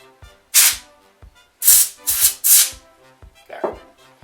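Short puffs of breath blown across the connector port of a watertight mobile device during cleaning, four or five close, breathy bursts separated by brief pauses, with soft handling noises between them.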